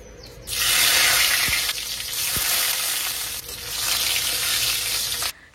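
Chopped onion and garlic hit hot oil in a kadai with a loud, steady sizzle that swells and continues for several seconds, with a couple of stirring knocks, then cuts off abruptly.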